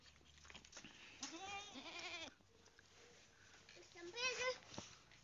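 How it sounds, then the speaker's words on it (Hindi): Goats bleat in their pen, several strong, wavering calls around the middle and again near the end, fairly close, with quieter background noise between. "हम आ गए अपने बकरियों की तरफ।"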